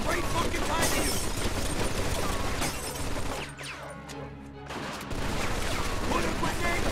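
Machine gun fire in the Mafia 2 video game, dense sustained rattling bursts with a short lull in the middle, loud and close, mixed with shouting voices and crashing debris.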